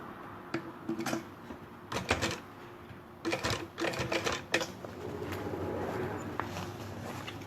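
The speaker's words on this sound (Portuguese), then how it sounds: "vou na máquina e vou fazer aquela costurinha aqui, ó. De pesponto." A sewing machine running slow bursts of topstitching on a sublimation-printed bag at stitch length 4, with a backstitch at the start and end; several short whirring runs separated by pauses, fairly close and alone.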